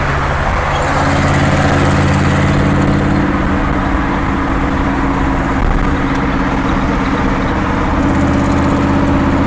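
A 1963 Chevrolet Biscayne with a 409 V8 engine rumbles steadily throughout a ride, a continuous deep low-pitched drone with constant loudness and no voices.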